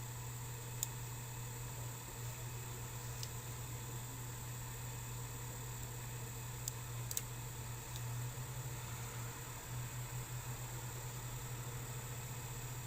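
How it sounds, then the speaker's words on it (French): A steady low engine idling at a distance, a faint continuous rumble and hum with no voices. "Le camion descend la rue."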